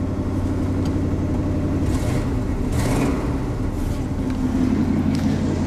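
A Chevrolet C30 pickup truck engine idles steadily with a low, rumbling dual exhaust that is badly rotted out, close by and continuous, with no talking.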